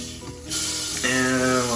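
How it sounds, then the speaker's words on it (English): A thick piece of beef sears for pot roast in a hot pan, a quiet background hiss at first, then a sudden loud, steady sizzle as the meat hits the fat and keeps frying. "It was a pretty thick piece of meat, so I seared each side for a pretty good amount."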